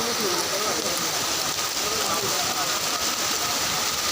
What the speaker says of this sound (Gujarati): આ વરસાદ ચાલુ થયો જોરદાર.